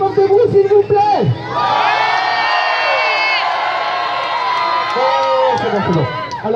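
A large holiday-resort crowd of over two thousand holidaymakers roars with loud shouting, whooping and cheering, swelling into a sustained wall of voices after a brief spoken call, then fading as talk resumes.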